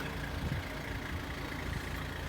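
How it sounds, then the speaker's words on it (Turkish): Evening street traffic passing outside a building materials store in Isparta, a steady low rumble of car and truck engines at moderate distance with no talk. "Altın Yapı Market akşam trafiği"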